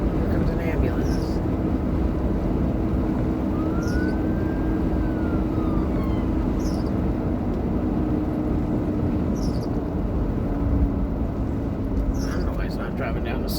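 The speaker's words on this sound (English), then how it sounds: "Here comes an ambulance." An ambulance siren passes in the distance, its faint rising and falling wail sweeping through over a steady bed of road and wind rumble.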